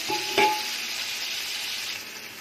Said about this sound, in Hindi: प्याज डाल लेते हैं अच्छा सा हल्का गोल्डन ब्राउन